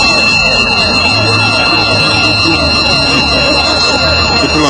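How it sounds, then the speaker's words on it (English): Wall-mounted siren sounding loudly in Enugu State, a continuous wailing tone with rising sweeps, close and dominant throughout. "he went and put a siren"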